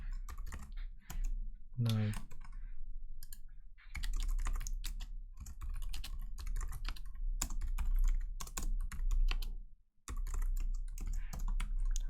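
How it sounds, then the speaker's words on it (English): Computer keyboard typing while coding a Pico-8 game, bursts of close key clicks around steady talk, with short pauses between runs of keystrokes. "So I'm just tabbing out the game and typing it as an idea."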